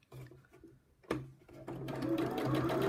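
A sewing machine doing free motion embroidery, its motor whirring in short stop-start runs that build into a continuous, close, loud stitching hum near the end.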